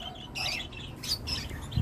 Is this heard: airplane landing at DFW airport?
no